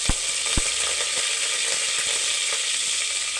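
Curry leaves splutter and crackle in hot oil in a pan, a dense steady sizzle with a few sharp pops near the start, close and loud, with no talk.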